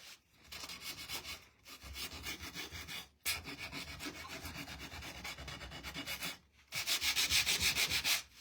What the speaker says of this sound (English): let's sand this